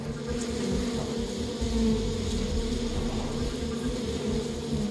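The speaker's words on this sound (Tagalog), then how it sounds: "Ang kumpol ng mga bubuyog," A swarm of live honey bees at a beehive, buzzing as a steady, loud, close drone that runs unbroken throughout, with no voices.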